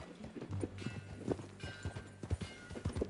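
Horse hooves clip-clop in a steady, moderately close rhythm while riding in the Red Dead Redemption 2 video game, accompanied by a low sustained tone and occasional soft snorts.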